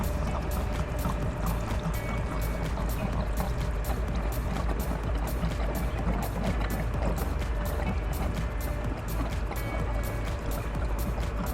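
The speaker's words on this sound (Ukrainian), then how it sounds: "Зараз додаємо води і побачите, який він буде після розчинення." Water is poured into a herbicide solution for spraying corn and sunflower crops, a steady continuous splashing and gurgling of liquid filling a container, close and unbroken throughout.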